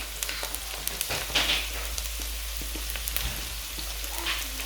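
Onions and garlic frying in a pan, a steady soft crackling sizzle with faint spits and pops throughout, no voices.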